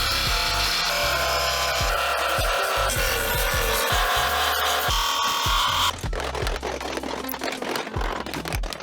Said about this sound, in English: I gotta grind through the actual uniside layer.